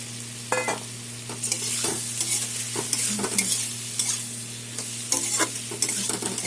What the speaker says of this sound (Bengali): এখন ভেজে রাখা পটলটা দিয়ে দেবো, আধা কেজি পটল।